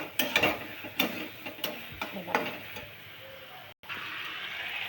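Pasta masala being stirred and sautéed in a pan gives off a series of scraping, clattering utensil strokes over a faint sizzle, close and fairly loud, with a brief pause near the end.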